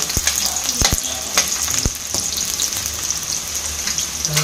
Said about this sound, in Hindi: इसको गोल्डन फ्राई होने तक इसको भूनेंगे।